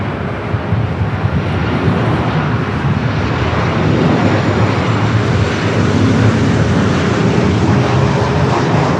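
A heavy jet landing at LAX gives off a loud, continuous engine roar with broadband rumble and wind noise that holds steady and close throughout.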